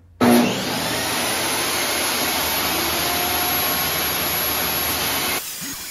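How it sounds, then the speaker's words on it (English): A table saw trims the edges of a board for a farmhouse coffee table top, giving a loud, sustained roaring whine that starts abruptly and holds steady for about five seconds before cutting off. "Getting ready to use my table saw"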